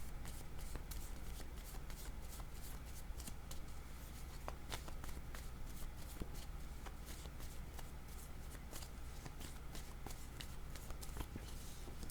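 Tarot-style cards are shuffled continuously up close, a soft, rapid flutter of riffles and slides, with faint voices under it, during a card reading.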